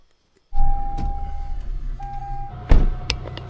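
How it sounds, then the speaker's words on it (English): A frost-covered pickup truck at a high-altitude winter campsite above 10,000 ft starts with a sudden loud crank, then settles into a steady, rumbling idle close by. "I'm going to get the truck started and defrosting."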